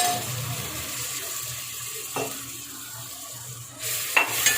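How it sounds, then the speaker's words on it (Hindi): Garlic and green chili paste thinned with water, cooking with spices in a pan, gives a steady soft sizzle and bubbling, with occasional stirring clinks, fairly quiet and with no voices. "तो अब इन मसालों को पका लेते हैं थोड़ी देर। मसाले पकते हैं इसमें।"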